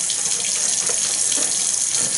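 Tap water running steadily into a sink while a part of a Ventray 808 masticating juicer is washed with a sponge, a bright, constant hiss and splash close by, with no talking.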